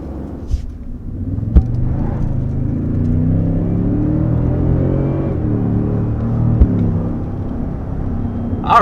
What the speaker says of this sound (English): is our first acceleration in the I-Max Force Tundra. This is the hybrid.